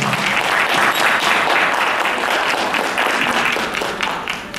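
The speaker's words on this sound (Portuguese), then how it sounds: "Uma salva de palmas para a Vânia." A seminar audience at a cultural event in Mogi das Cruzes applauds for a speaker, a dense, loud burst of many hands clapping that holds steady for several seconds before starting to taper.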